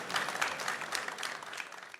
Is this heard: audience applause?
yes